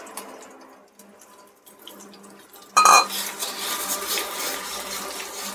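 Chopped onions and whole garlic cloves hit hot oil with bay leaf, a sudden loud sizzle that keeps crackling, while a utensil scrapes and clinks against the pan.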